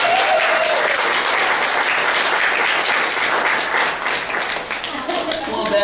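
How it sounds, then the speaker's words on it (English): A small theater audience applauds performers after a balloon theater story piece, dense steady clapping filling the room for several seconds and thinning slightly near the end, with faint voices underneath. "Give them a round of applause."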